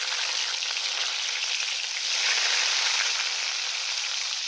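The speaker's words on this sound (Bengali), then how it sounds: "এই যে এভাবে তেলের মধ্যে মাছ দেওয়া হয়েছে" Fish frying in hot oil gives a steady, dense sizzle, close and fairly loud, holding unbroken for the whole stretch with a slight swell partway through and no voices.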